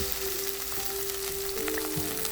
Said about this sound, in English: carefully add your salmon fillets to the skillet, skin side down